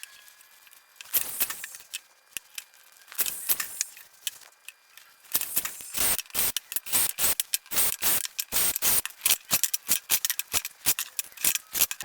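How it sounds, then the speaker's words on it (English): Sharp pneumatic brad nailer shots and clicks fire in rapid bursts as wooden caster blocks are nailed in place on a mobile workshop cart, loud and close, growing denser toward the end. "we're just gonna glue and brad nail those in place"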